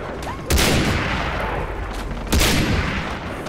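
Video game gunfire in Far Cry 3 comes as loud, sharp bursts of shots, two heavy blasts standing out over a dense background of battle noise.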